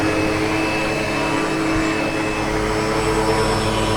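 A SEBO Automatic X7 Boost ePower upright vacuum cleaner with a brush roll runs steadily and close by, giving a loud, continuous motor whine over a low hum, with no one talking.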